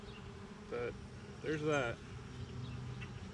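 Bees from a recently caught swarm drone around an opened hive, a close buzz rising in two brief surges over a steady low hum, with a short spoken remark partway through.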